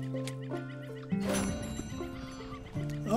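A horse whinnies in the western video game Red Dead Redemption 2, a loud, shrill, wavering neigh that rises sharply and trails off, with a few hoof clops and ambient background sounds around it and no speech.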